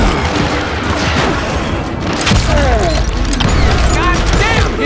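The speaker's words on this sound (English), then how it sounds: "Covering fire! Shoot that bastard!" Gunfire rattles through a Call of Juarez Gunslinger Old West shootout in Lincoln County, with sharp bursts and booms mixed with clatter and shouting voices.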